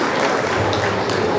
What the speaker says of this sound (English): Round of applause for Rochelle, please.